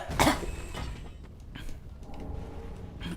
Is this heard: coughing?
yes